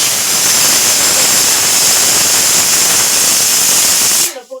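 Onions sautéing in a pan for a Tamil-style fish curry give a loud, steady sizzling hiss that runs close and unbroken, then cuts off abruptly near the end.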